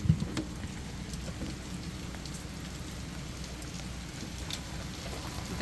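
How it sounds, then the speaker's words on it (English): An afternoon rain shower in Florida gives a steady, close hiss of rain falling on surfaces with scattered drop ticks. Faint thunder may murmur in the background, and no voices are heard. "The rain, the mini storms that you get every day around 3 or 4 o'clock."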